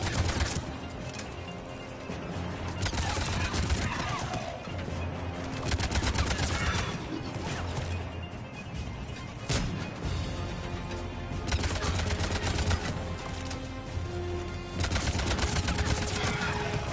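Rifle gunfire in the video game Mass Effect 3, dense rapid bursts of shots crackling almost nonstop over a busy battle soundscape, loud throughout with brief lulls between volleys.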